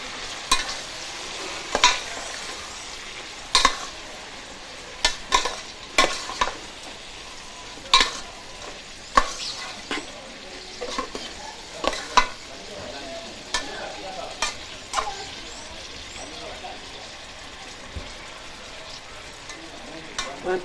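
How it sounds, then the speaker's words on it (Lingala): Onions and edible caterpillars fry in oil with a steady sizzle, while a utensil stirs the pan in repeated sharp scrapes and knocks. The clatter is close and unaccompanied by talk. "wana totika ka huile na litungulu na mbinzo na biso"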